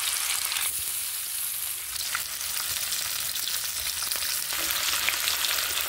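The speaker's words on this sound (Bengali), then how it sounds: "ইলিশ মাছগুলো দু পিঠ বেশ ভালোভাবে ভেজে আমি তুলে নেব।" Hilsa fish pieces frying in hot oil, turned to cook both sides, give a continuous close sizzle and crackle with a few brief shifts in texture and no talking.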